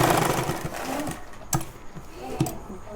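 A sewing machine stitches a kurti at a steady, loud whir, with a couple of sharper knocks from the mechanism partway through.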